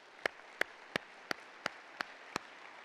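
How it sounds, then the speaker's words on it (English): Seven single claps, evenly spaced and fairly quiet, against a quiet room at a business awards event. "Let's give them another round of applause."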